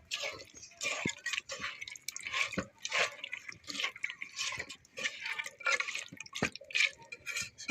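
Ground-spice water is poured into peas curry, heard as faint, close, irregular splashing and dripping with soft clinks.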